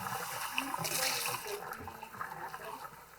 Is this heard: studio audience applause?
no